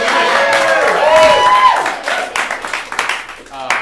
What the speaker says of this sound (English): Yeah, give that an applause.